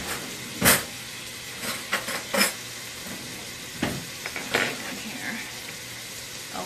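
Garlic in a pan ahead of marinara sauce, a soft continuous sizzle broken by sharp clinks and scrapes of a spoon and pan, close by with no talking.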